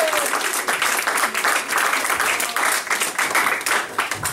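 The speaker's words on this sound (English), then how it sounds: "Give a big round of applause for Rich DeLasso, everybody." A comedy club crowd gives loud, sustained applause for a stand-up comedian being brought on stage. The clapping is dense and close, with slight swells and a few shouts mixed in.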